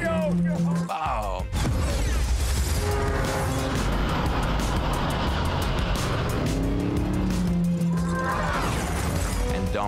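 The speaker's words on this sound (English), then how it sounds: "Diogo activates the NOS first, off he goes" Cars roar and race through a Fast X film chase scene, with loud, continuous engine noise, passing vehicles, and a crash-like burst near the start, all under overlapping speech.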